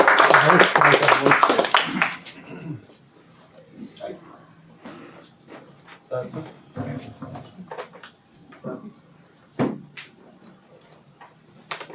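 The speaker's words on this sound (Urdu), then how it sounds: "آپ تالیاں بجا کر استقبال کر سکتے ہیں۔" An audience at a book launch ceremony claps in a brief, fairly loud burst, which fades after about two seconds into scattered knocks and quiet room sounds with faint voices.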